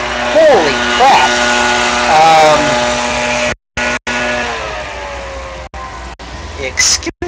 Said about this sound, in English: I hope that you guys can hear me over the lawnmower.